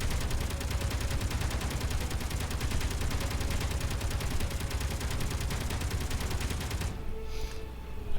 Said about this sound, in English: That sounds like the stock gun.